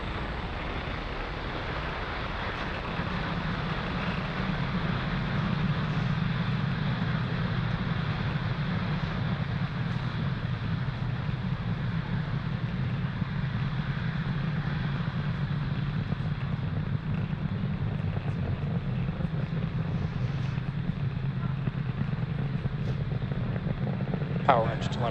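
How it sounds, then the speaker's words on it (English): A SpaceX Falcon 9 rocket climbs away from the pad at a distance as a broad, steady low roar after a quieter opening few seconds. It continues evenly under the launch commentary. "Falcon 9 has successfully lifted off from pad 40"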